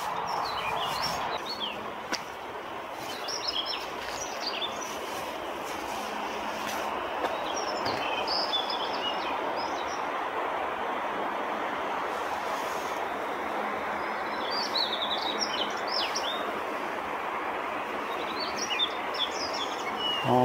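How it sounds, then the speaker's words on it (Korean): Birds singing along a forest trail, scattered bright chirps and song phrases over a steady broad background rumble of outdoor ambience, with no speech. "새소리 좋다."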